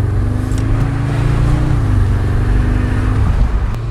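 A car accelerates hard from 0 to 100 km/h, its engine note climbing steadily in a loud, continuous drone with audible gear-change dips, heard close from inside the cabin.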